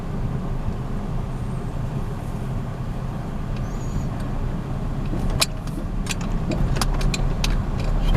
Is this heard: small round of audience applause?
no